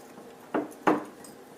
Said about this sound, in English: And then we just want to take this and mix it up into our butter really well.